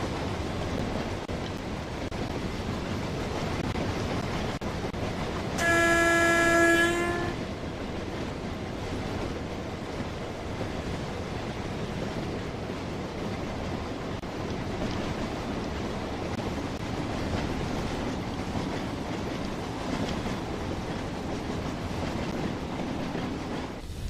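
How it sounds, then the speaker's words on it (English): BR Class 31 locomotive bogies in Train Sim World 2020 roll steadily over rail joints under a constant loud rumble and roar, with a brief bright tonal squeal or horn-like tone partway through. "I really like the sound there as you hear the bogies go over the joints."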